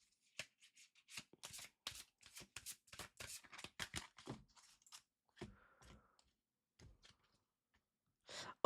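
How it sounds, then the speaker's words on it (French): Oracle cards being shuffled by hand before a single card is drawn, with soft, quick riffling bursts through the first half, sparser clicks after, and a final flurry at the end. "Je tire pour vous une carte avec l'oracle des anges de l'amour."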